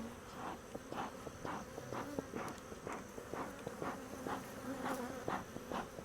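Honeybees buzzing around an opened backyard hive, a steady close insect drone broken by a regular pulse of soft rustling and handling knocks, with no talking.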